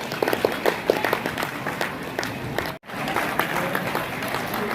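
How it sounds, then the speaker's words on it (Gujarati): Dense applause from an audience at a Halpati community gathering in Surat, steady clapping sustained throughout with a brief gap near the end before it resumes at full strength. "તાળીઓના ગણગાટે બધા તાળી ખૂબ ઓછી પડે છે ભાઈ."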